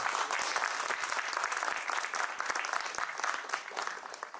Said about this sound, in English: Let us give a loud applause for them.